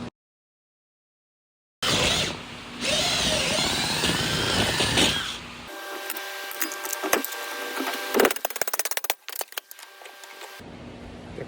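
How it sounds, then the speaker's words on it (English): A power drill boring 1/2 inch holes through material for a homemade jack plate on a johnboat, heard as a loud sustained whine that shifts pitch, then a stretch of choppier grinding and clattering bursts near the end. "drill the holes"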